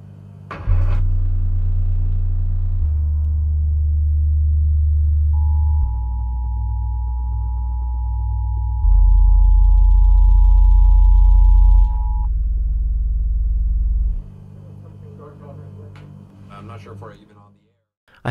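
Deep, sustained bass rumble from a movie scene in Edge of Tomorrow played through a REL T9x subwoofer, swelling in stepped low waves with a steady tone partway through, then fading out.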